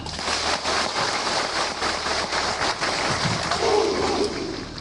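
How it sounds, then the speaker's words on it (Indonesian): Loud, dense clapping from a gathering of soldiers and their wives at an Indonesian army chant event, continuous and rhythmic with a brief shout near the end. "Tepuk tangan."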